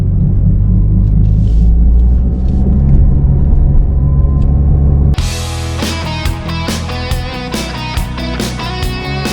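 A car drives along a road in Ozaukee County, Wisconsin, with a heavy, steady low rumble from inside the vehicle for about five seconds before the sound abruptly cuts to something busier and brighter.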